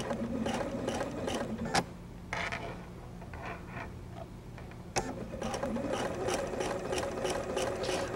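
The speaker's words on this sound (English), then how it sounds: "We're sewing with about 10 to 12 stitches per inch, and I will guide the fabric to the very last stitch with a stiletto." A home sewing machine stitches fabric at about 10 to 12 stitches per inch, its fast steady whirring chatter running throughout with brief pauses and a couple of sharp clicks, heard close and alone without talk.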